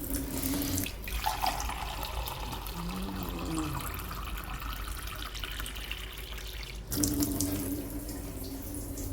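Water runs from a tap into a pot in a home kitchen, a steady close splashing stream that briefly eases midway and then gushes again.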